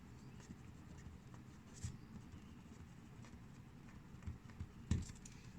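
Pen or pencil writing short notes on paper, soft scratchy strokes at a low level, with a few louder taps and pauses and no speech.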